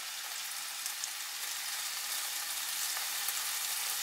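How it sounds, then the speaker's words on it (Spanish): Two diced onions frying in a pan give a close, steady, hissing sizzle that holds evenly throughout, with no voices over it. "Son dos cebollas cortadas en cuadradito. Y lo sofreiremos."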